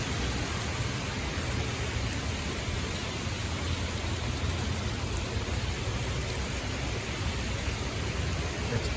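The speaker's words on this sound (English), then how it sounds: "The rain blowing everywhere." Tropical storm rain blows in a dense, unbroken roar of wind-driven downpour, loud and close, with no voices.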